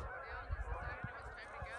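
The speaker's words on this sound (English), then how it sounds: "There's like a purge of geese from this lake." Geese honking repeatedly in a noisy chorus, with bursts of wing flapping mixed in, fairly close and continuous.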